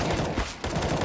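Rapid gunfire from a CS:GO match as a player sprays down opponents, dense bursts of automatic fire dominating throughout with a brief dip midway, loud and close.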